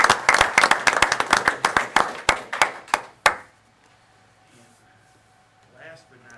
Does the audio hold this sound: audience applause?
yes